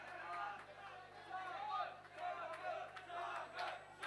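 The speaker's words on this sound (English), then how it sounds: "The crowd is erupting." A crowd at an amateur MMA fight night roars and shouts as a fighter lands a takedown, the cheering rising and falling in loud surging waves that continue through the whole stretch.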